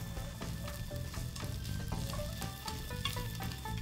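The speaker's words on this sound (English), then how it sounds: "Ladle the egg into the pan." Beaten egg for tamagoyaki sizzles and crackles in a hot oiled pan, a steady close frying hiss with scattered pops and light scraping as it is spread.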